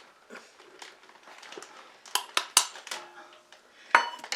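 A spoon clinks and scrapes around a bowl as cherry kiss cookie ingredients are mixed, soft stirring at first, then a run of sharper knocks against the bowl, close up with no talking.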